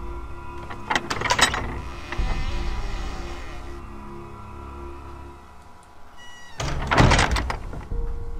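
A secret fireplace entrance to a basement grinds open in a video game, with mechanical clunks and ratcheting gears, a sustained sliding rumble through the middle, then a second loud burst of clanking mechanism near the end.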